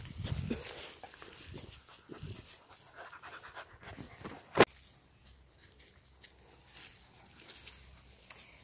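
Puppies pant in quick, steady breaths close by, with light shuffling and soft movement sounds around them and one sharp click partway through.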